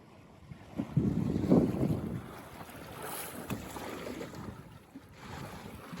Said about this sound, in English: Really good wind. It's pretty steady.